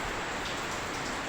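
Steady rain falls outside an abandoned house in Cordova, Cebu, a dense continuous patter with no breaks, heard close by without any talking.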